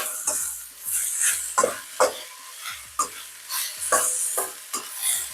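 Metal spatula scraping starch stuck to the bottom of a skillet while spicy pork strips with celery fry, a series of sharp, close scrapes in an uneven rhythm over a light sizzle.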